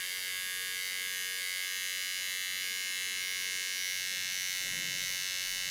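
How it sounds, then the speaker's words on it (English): Electric hair clipper held upside down with the blade resting on the hair, buzzing steadily and alone at close range throughout, with a slight shift in tone near the end as it cuts. "you can see that I hold my clipper upside down, so my blade's only leaning on the piece"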